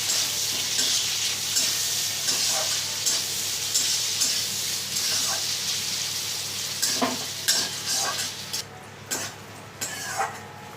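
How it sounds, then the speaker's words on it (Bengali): Chopped onions frying until browned in a pan, a loud, steady sizzling hiss with occasional spatula scrapes and knocks, the stirring growing more distinct and clipped toward the end. "কুচিয়ে রেখেছিলাম পেঁয়াজ, সেটা দিয়ে দিচ্ছি। পেঁয়াজটা লাল করে ভেজে নেব।"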